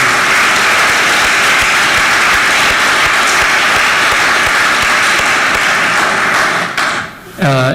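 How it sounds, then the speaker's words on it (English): A lecture audience applauds loudly and steadily for several seconds in a hall, the dense clapping filling the room before tapering off abruptly near the end. "A round of applause would be terrific"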